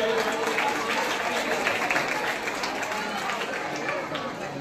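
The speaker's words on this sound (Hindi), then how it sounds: "जोरदार ताली बजाएं।" Applause from students and guests at a village school's annual function during a prize announcement, a broad, continuous wash of clapping with crowd murmur mixed in, moderately loud and even from start to finish.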